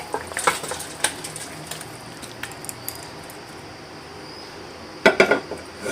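A pot of thin fish curry with bottle gourd stems and green banana is lifted off and set down, giving clattering metal knocks near the start and a sharper cluster of clanks near the end, with quieter handling sounds in between.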